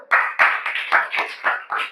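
A class in a computer networking and telecommunications lesson claps together in a quick run of about eight sharp, loud claps, close and evenly spaced.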